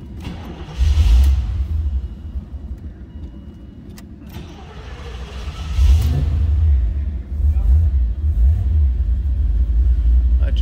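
A 1986 Chevrolet Corvette Indy Pace Car convertible engine cranks and fires, then settles into a deep rumbling idle with a couple of revs, heard close and fairly loud throughout with no talking.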